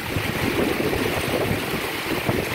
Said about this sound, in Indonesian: Hujan angin gede, ini mah hujan badai.